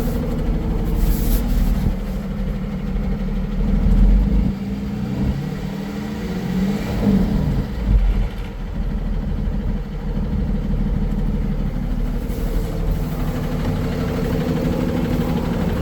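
A 2012 Freightliner M2 Altec forestry bucket truck with a 6.7 liter engine idles steadily nearby, a continuous low diesel rumble with slight surges, no voices over it.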